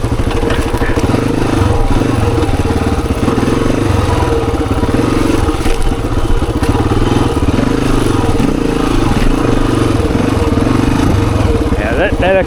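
Honda XR dirt bike ridden over an off-camber rocky trail, its engine droning loudly and steadily throughout with clattering from the rough ground, close to the rider.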